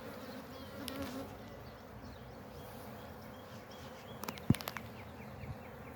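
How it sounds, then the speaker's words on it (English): Honeybees hum in an open hive during a February inspection of the brood nest, a faint, steady buzzing drone up close with a few brief knocks of frames being handled. "See, they do get more alert as we get into the brood nest."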